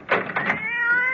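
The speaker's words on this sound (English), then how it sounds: "that damn cat!" A single cat gives one drawn-out meow, close and clear, with a slight harsh edge.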